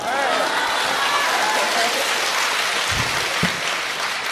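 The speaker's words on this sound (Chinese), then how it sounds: "听着稀稀拉拉的掌声，是有点失望了吗？" Sparse applause from a live Deyun She crosstalk comedy audience: thin, scattered clapping forms a steady wash of noise throughout, with some voices mixed in.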